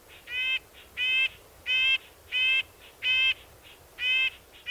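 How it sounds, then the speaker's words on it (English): A red-breasted nuthatch gives a series of about seven nasal, horn-like yank calls at an even, rapid rhythm, clear and fairly close against a quiet background. "the most distinctive noise they make is that nasally little horn sound, yank, yank, yank, yank, yank"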